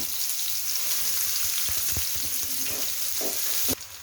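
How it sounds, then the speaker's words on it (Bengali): Chopped onions hit hot oil in a pan, giving a steady, close sizzle with small crackles and pops throughout, no talking over it. "তেলটা গরম হয়ে গিয়েছে, এখানে আছে 1 কাপ পেঁয়াজ কুচি"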